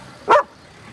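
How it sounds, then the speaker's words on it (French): One sharp, close bark from a dog in a French crime drama set on the docks, a single loud yip-like burst against quiet room tone. "c'est le chien de ton ex-copain, Alex Guirardon."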